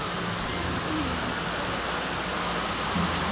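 Steady, dense roar of falling water at Twin Falls, heard from above the falls, loud and unbroken with no distinct events.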